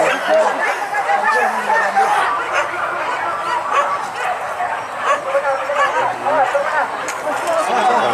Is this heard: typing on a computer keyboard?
no